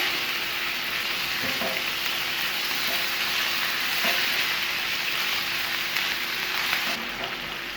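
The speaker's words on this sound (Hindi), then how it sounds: "और इसको हम इस वक्त तक फ्राई करेंगे जब तक इसका कलर नहीं चेंज हो जाता।" Chicken pieces fry in a pan over a medium flame, giving a steady, close hiss and crackle that runs unbroken throughout, with a few faint stirring knocks.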